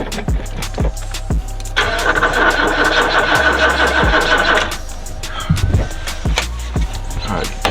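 A 1987 Oldsmobile Cutlass that has sat for 25 years cranks loudly and close without catching. Sharp clunks frame a few seconds of steady starter whir.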